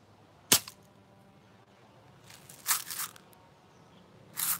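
Three sharp cracks from a Daisy No. 155 BB gun, spaced irregularly with a short ring after each, close by over a quiet outdoor background hiss.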